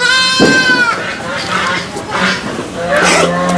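A Beetal goat on a commercial goat farm bleats close by, a long wavering cry, then bleats again shortly after while people talk around it.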